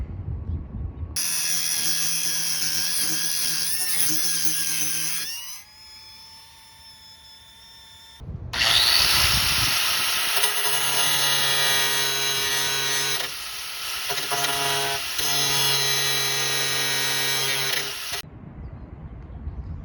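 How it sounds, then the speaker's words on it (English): A power grinder working down cut-off metal on the body of a 1972 Toyota Celica: a loud, close, whining grind in two long stretches, broken by a brief quieter gap of motor run-down, with no talk. "So I'm gonna cut off all of these and then just grind them down."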